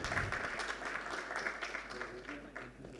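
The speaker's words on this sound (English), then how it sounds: "A big round of applause for the panelists" A room of people at an aviation and air cargo summit panel session applauds, steady clapping that holds for a few seconds before thinning out slightly, with some voices mixed in.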